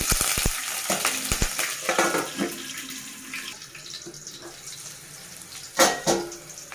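Green chillies dropped into hot oil while making sesame pachi pulusu, giving a sharp crackle that settles into a steady sizzle with a few stirring scrapes and a louder burst near the end, heard alone.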